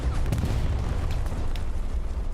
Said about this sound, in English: As the explosions continue to come down into point here